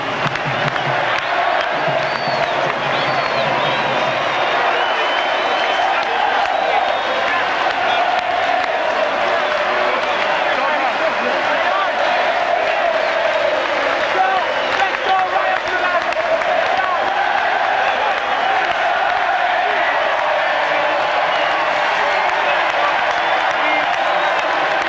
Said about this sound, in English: They're going to take the applause of their fans.